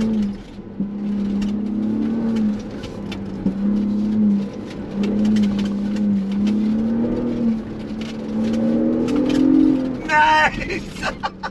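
A Ford Bronco Raptor weaves through slalom cones, its engine droning steadily with slight rises and dips in pitch beneath a person talking.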